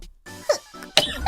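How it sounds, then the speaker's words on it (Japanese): A single loud, abrupt human sneeze bursts out near the mic, with a sharp inhaled lead-in and an explosive release, followed by a brief gasp in an otherwise quiet room. "久々にくしゃみした。"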